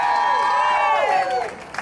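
A crowd at a March Against Monsanto rally breaks into applause and cheering, a dense, steady wash of clapping with voices shouting over it, holding loud for the whole stretch and tapering slightly near the end.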